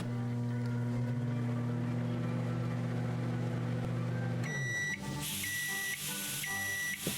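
In the video game Jazzpunk, a microwave oven hums steadily at a low pitch, then stops and gives a series of sharp electronic beeps, with no talk over it.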